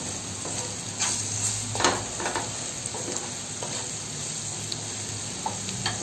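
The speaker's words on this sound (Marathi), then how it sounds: "आणि आपला हा मसाला टाकूया आणि हा पण आपण छान असं थोडं परतून घेऊया।" Spice masala with turmeric sautés in hot oil in a pan for a dry prawn dish, giving a steady close sizzle with occasional stirring scrapes throughout.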